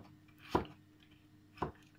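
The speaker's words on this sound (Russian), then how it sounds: "Режется сейчас редиска." Knife chopping radishes on a cutting board for okroshka, two sharp isolated chops about a second apart, close and fairly quiet with stillness between.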